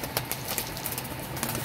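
Pigeons close by, brief soft flutters and light rustling with faint cooing in a short burst.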